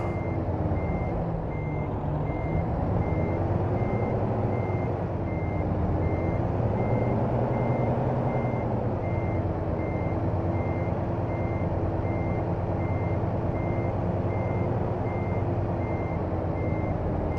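A truck backs in within American Truck Simulator, its reversing alarm beeping steadily and evenly throughout over a constant low diesel engine rumble, with no talking.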